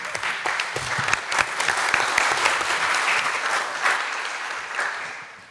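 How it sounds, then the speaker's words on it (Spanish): Audience applause at a seminar in Concepción, steady dense clapping that holds for several seconds and tapers off toward the end, with no voices over it. "Un aplauso, por favor, para ella."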